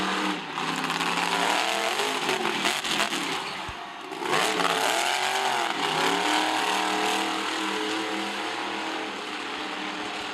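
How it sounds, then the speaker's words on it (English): Spitfire monster truck engine roars loud and continuous through a freestyle run at a speedway, revving with rising and falling pitch and a brief dip midway before surging again. "Your first truck up in Monster Truck Freestyle."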